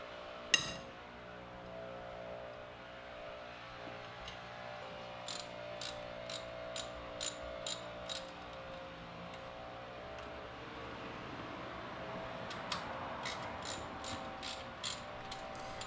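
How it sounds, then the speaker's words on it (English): A breaker bar works loose 9/16 brake caliper bolts on a Classic Mini, giving a sharp metallic knock followed by two bursts of quick ratcheting clicks, close in a quiet garage with a faint background hum. "the breaker bar did a great job at releasing the two bolts"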